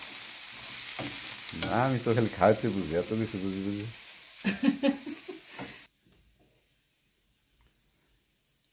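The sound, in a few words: dried fish and potato curry frying in a pan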